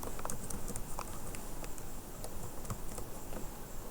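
HTML code is typed on a computer keyboard as quick irregular clicks and taps over a steady background hiss, moderately close and without talk.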